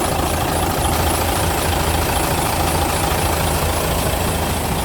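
A heavy F1 truck with a turbocharged inline diesel engine idles steadily, a loud, close, even rumble with no break for the whole stretch and no voices.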